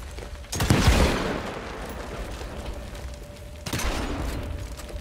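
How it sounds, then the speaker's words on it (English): Loud bursts of explosive, gunfire-like noise from the video game Evil West, a heavy blast near the start and another about three seconds later, over a steady rumbling din. "The guns and explosions are a little bit too loudly mixed."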